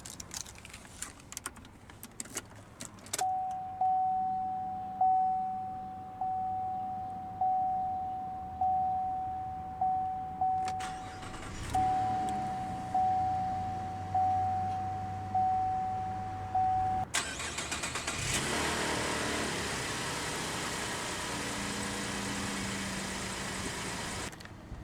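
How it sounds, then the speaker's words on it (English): A 2015 Chevrolet Colorado Z71 crew cab pickup sounds a steady repeating warning chime from inside the cab, then its engine cranks and catches, settling into a constant, fairly loud idle. "let's go ahead and start the engine"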